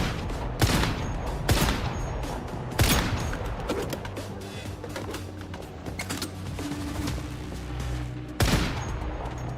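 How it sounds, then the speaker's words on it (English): Turret fire in the survival shooter Once Human: sharp, loud gunshot bursts crack out at irregular intervals over a steady rumbling game background, with no talking. "Oh, it's a turret."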